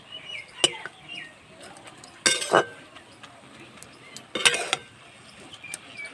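Beto greens being stirred in a covered pan, with sharp metallic clinks and a few clattering bursts of the spatula or lid against the pan over a quiet background.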